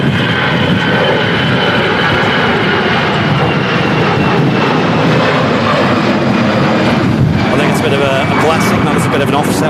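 An airliner landing at Manchester Airport in storm crosswinds gives a loud, continuous roar of engines mixed with heavy gusting wind, filling the whole stretch with dense rumbling noise.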